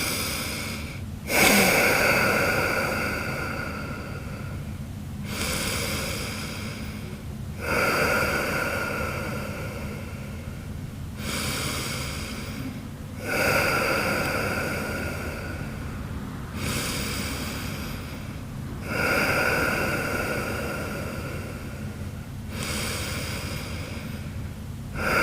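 Slow, deep breaths during a cooldown stretch after a Brazilian jiu-jitsu class, each long inhale and exhale rising and falling in a steady cycle roughly every five seconds, close and clear with no talking.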